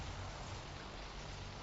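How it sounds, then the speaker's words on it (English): Steady rain falls in a dense, continuous hiss that stays even and close throughout, with no other distinct sounds on top. "the weather's terrible, bro. It's raining again right now"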